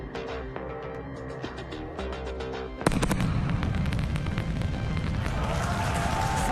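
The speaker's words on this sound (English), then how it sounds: "you're going to hear those sonic booms" Sonic booms from a returning SpaceX Starship Super Heavy booster over Starbase, Texas: a sudden loud thunderclap-like boom cuts in partway through, followed by sustained rumbling and crackling crowd noise after a busy, murmuring background.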